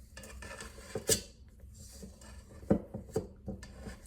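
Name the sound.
scooping chilled chocolate chip cookie dough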